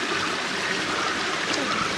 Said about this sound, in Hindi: तो हमें वाटरफॉल का आवाज़ आ रहा है